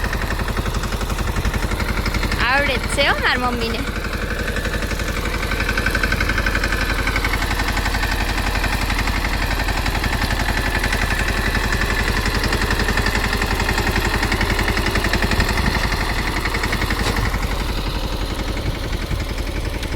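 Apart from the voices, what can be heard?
tractor engine running, driven by the speaker's mother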